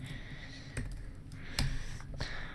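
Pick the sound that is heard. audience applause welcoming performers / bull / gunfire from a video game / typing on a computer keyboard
typing on a computer keyboard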